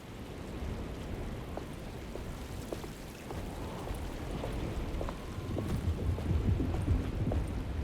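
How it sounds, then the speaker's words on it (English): Steady rain falls in a stormy outdoor scene in the video game Alone in the Dark, a dense, continuous wash with a low rumble of thunder building toward the end. "Just keeping an eye out for the storm."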